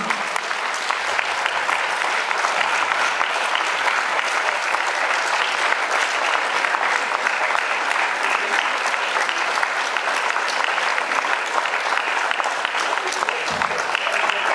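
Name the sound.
applause at school ball for teachers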